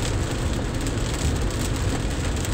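Steady rain hisses on a wet highway while a car drives, a dense continuous wash of spray and road rumble with no break.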